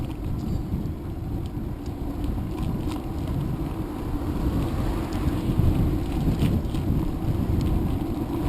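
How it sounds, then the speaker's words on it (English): Strong wind buffeting a microphone during an outdoor bike ride in Japan, a continuous loud low rumble with gusting swells and no speech. "That's a strong wind."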